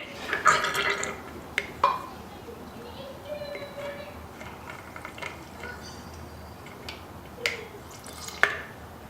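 Liquid splashes and drips as parts are pulled apart on something dirty, with scattered close drips and splatters under intermittent talk.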